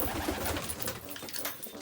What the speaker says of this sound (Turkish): Bunlar hangi cins kuş ya?